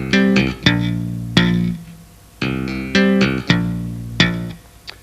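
Bass guitar playing alone, with sharp thumb slaps and tapped notes in an uneven rhythm, each attack ringing briefly before the next.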